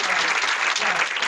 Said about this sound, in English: please, round of applause for Dan